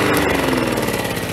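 A flood-damaged lawn mower engine runs loud and close, a rough steady drone broken by irregular pops and spits.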